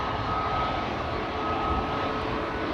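Steady droning engine noise from airliners at Amsterdam Schiphol Airport, heard as a continuous broadband roar with a faint whine, constant in level with no voices.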